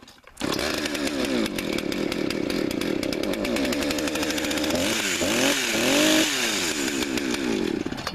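A chainsaw with a compression release bursts into life and runs loud and close, its engine droning steadily with a few revving surges toward the end.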